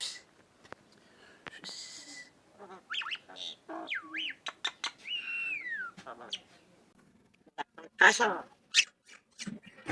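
A myna bird calls nearby with a run of whistled, sliding notes and chattery squawks, alternating with soft human voices in a quiet setting.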